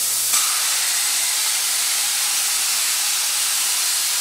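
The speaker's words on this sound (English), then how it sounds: "So we're going to do a practice spray." A drywall texture sprayer does a practice spray with compressed air: a loud, steady, continuous hiss that starts with a brief burst and then holds unchanged throughout.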